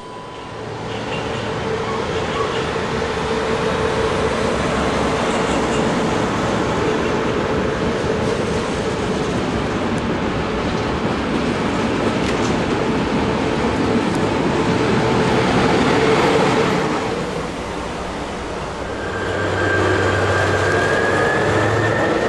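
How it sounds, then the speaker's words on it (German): A rescue train at Kassel main railway station rumbles and rattles along the tracks at close range, a steady loud roar that dips briefly before picking up again. "Hier sehen wir den Hilfzug"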